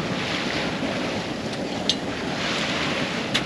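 Steady broadband rush of 13-knot wind over open water with rolling sea swell aboard a sailboat near Delos, Greece, continuous and fairly loud, with occasional faint splashes and no voices.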